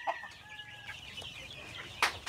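Free-range chickens on a farm in Cebu cluck softly nearby, a few short calls scattered over quiet outdoor background noise, with one sharper squawk near the end.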